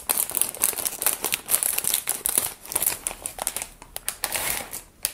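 Plastic packaging of a Japanese DIY candy kit being cut open, with steady close crinkling and rustling and a few sharper tearing snips throughout, loud and without speech.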